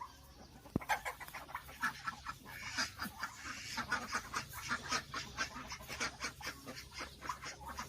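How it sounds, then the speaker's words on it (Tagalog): Farm ducks and chickens in an open yard, with small ducklings among them, quacking and clucking in a steady busy chorus, close and lively, with a single sharp knock near the start and no talking. "Ayan na po ang mga bebe natin."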